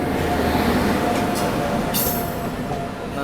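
The Nandankanan Express rolls past on a line near Puri as a steady, loud rumble of wheels on rails, with a brief high squeal of metal, and no voices.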